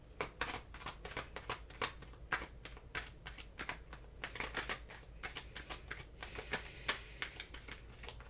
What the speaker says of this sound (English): let's get some tarot cards on this.